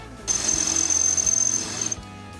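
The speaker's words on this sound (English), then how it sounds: "I gotta drill out the disc brake a little bit to allow bolts to go all the way through" A high-pitched drill whines steadily for about a second and a half, drilling out a metal disc brake, over a low background hum, then winds down and stops.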